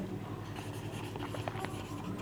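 Marker or chalk writing on a board in a classroom lesson makes a steady run of soft scratchy strokes and taps, moderately close, with no one talking.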